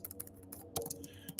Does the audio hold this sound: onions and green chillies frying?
no